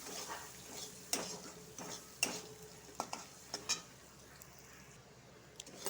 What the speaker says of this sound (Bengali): পরিমাণ মতন লুন দিয়ে দিব হলুদ দিব পেঁয়াজটা ভালো করে লাল লাল করে ভাজবো